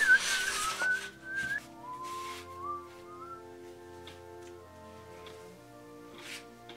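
A person whistles a meandering tune, clear and close, with gliding notes and some soft background noise early on.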